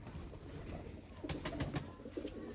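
Pigeons cooing in a loft of show breeding pairs, soft repeated low coos rising in a few bursts over steady background noise.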